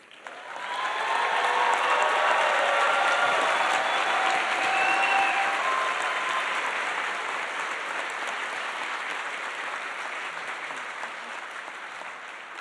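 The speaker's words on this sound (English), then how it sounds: "Congratulations and a big cheer for all our BSAS graduates." An audience at an architecture school convocation applauds the graduates, with sustained, dense clapping from a large crowd that swells quickly and then slowly tapers while still going strong.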